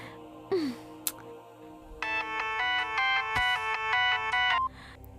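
A mobile phone ringtone for an incoming call plays a bright, repeating electronic melody for about two and a half seconds, close and clear, after a few scattered household clicks and knocks.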